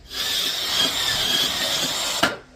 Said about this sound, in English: Now I'm going to drill.